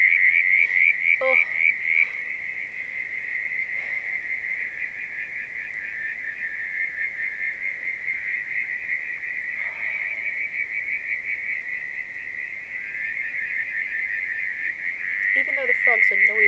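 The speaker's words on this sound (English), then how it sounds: "Even though the frogs are noisy, there's something magical about them as well." Frogs croak in a continuous, dense chorus at night during hammock camping in New Zealand, a steady rhythmic trill that stays loud throughout, with a brief low rustle near the end.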